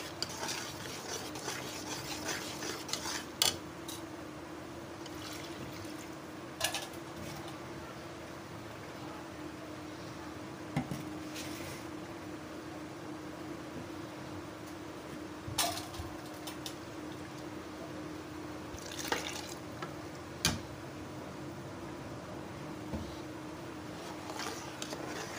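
Mango paste is stirred into kheer in a pot, with a spoon scraping and clinking against the metal in slow, repeated strokes. A soft simmering hiss sits underneath, and occasional sharper knocks stand out from the quiet kitchen.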